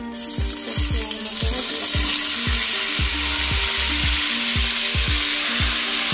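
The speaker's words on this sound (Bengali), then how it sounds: "পাঁচফোড়নটা হয়ে গেলে এই তেলের মধ্যে আমি এবার সিমগুলোকে দিয়ে দেবো।" Sim green beans hit oil tempered with panch phoron, bursting into a loud, steady sizzle up close, overlaid with a regular series of short, low knocking pulses.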